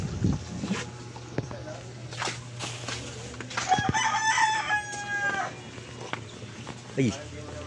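A rooster crows in the middle distance, a long harmonic call over outdoor background noise, with brief clattering sounds before and after.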